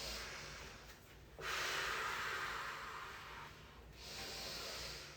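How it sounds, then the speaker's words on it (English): Slow, deep yoga breaths sound close and airy, each long hissing inhale or exhale swelling and fading in a steady rhythm, alone and fairly quiet. "2 more breaths"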